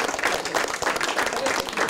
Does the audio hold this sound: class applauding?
yes